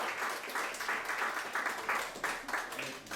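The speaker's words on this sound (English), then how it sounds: "Let's give them all a round of applause." Crowd applause at a candidates' forum in Brunswick, Georgia, fairly faint and distant, a steady wash of many hands clapping with a slight rhythmic pulse for a few seconds.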